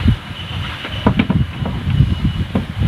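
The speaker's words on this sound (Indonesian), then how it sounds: "Angin badag kieu euy." Strong wind blows outdoors, a continuous loud roaring rumble buffeting the microphone, with no voices.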